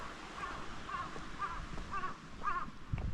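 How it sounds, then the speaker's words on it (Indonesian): Crows caw repeatedly in a Japanese village in the afternoon, a series of short harsh calls spaced about half a second apart over a quiet outdoor background, moderately distant. "Kalau di Jepang tuh banyak burung gagak."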